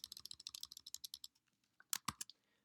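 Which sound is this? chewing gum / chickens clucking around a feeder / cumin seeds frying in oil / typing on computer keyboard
typing on computer keyboard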